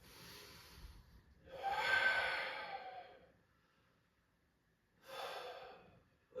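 Slow, deep breaths during a yoga session: a long audible inhale swelling over about two seconds, quiet pause, then another breath drawn near the end, close and breathy with no talking.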